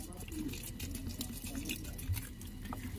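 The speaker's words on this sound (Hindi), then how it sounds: "एंड इसको पानी देती हूँ।" Water is poured over potted plants, a steady splashing trickle close by with a soft continuous rush and a faint drip, moderately quiet throughout.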